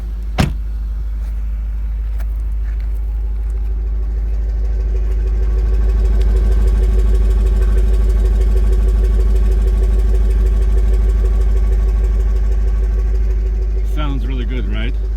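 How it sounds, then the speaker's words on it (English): A 2019 Jaguar F-Pace SVR engine idles with a low, steady hum close by, swelling slightly in the middle; a brief click and faint rattle come near the end. "I can go behind it and let you hear the engine just a little bit."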